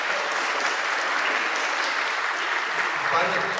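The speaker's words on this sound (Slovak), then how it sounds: "Môžeme ju privítať takisto potleskom." An audience applauds to welcome a guest at a Holocaust remembrance event in Slovakia: dense, steady clapping from a full room at an even level throughout.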